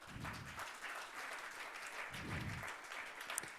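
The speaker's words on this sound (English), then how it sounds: "Please give them a huge round of applause," Audience applause at a technology conference event in Bangalore, a faint, fairly distant patter of many hands clapping steadily for a few seconds with no talking over it.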